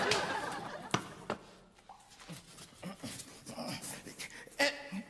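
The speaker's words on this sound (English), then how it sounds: "Dog." A dog on a British TV comedy show gives short whimpers and little yips, scattered between scuffles and rustles at moderate level, with some background voices.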